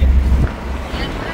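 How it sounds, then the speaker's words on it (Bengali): Cool morning wind rushes and buffets through a moving car with no AC on, a steady low roar of air close to the microphone. "সকালের ঠান্ডা বাতাস গায়ে মেখে তারপর আমরা পৌঁছচ্ছি"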